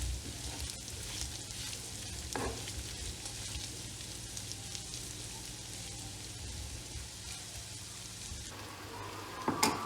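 Soft, continuous sizzling of meat frying with spices in butter in a pan for çökertme kebab, fairly quiet, with occasional light clinks of a utensil stirring.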